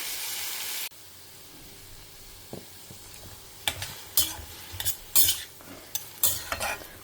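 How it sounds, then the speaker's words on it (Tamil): Tomatoes, green chillies and mustard seeds sautéing in a pan, a spatula scraping and stirring in quick irregular strokes over a steady sizzle, close and clear with no talk. "தக்காளி நல்லா வதங்குற அளவுக்கு வதக்கிக்கலாம்."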